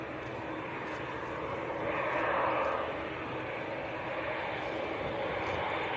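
TUI Boeing 787-9 airliner bound for Montego Bay at Manchester Airport, a faint distant jet engine whoosh that swells briefly then settles into a low steady hum, no voices.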